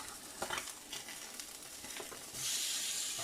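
Bass fillets fry in a pan with a steady, close crackling sizzle, punctuated by a few soft clicks, before turning over brings a sudden louder surge of hissing.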